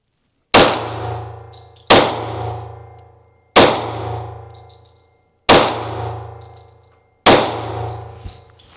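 A Smith & Wesson M&P FPC 10mm carbine fires light ammunition in five evenly spaced, sharp shots. Each is loud and close and trails off in a metallic ringing decay.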